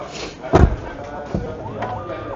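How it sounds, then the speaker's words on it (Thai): A Tesla Cybertruck door closing, heard as a single solid thud near the start with a fainter knock after, while someone talks over it in a showroom. "ปิดประตูก่อน"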